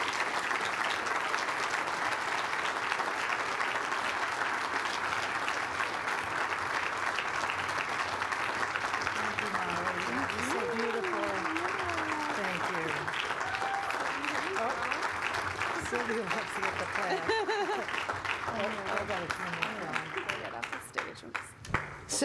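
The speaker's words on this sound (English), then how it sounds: "So let's give a real warm welcome and congratulatory applause to our Farmers of the Year, Jane and David." Sustained audience applause for organic farmers being honored as Farmers of the Year 2020, steady dense clapping throughout with talk and voices rising over it midway before it tapers off at the end.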